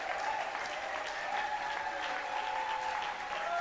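A church congregation applauds in a dense, even wash of clapping that holds steady from start to finish.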